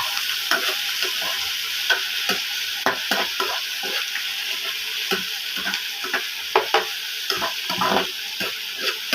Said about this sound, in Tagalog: maggigisa tayo ng opo with sardinas